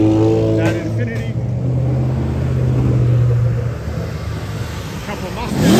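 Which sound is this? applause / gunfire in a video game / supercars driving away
supercars driving away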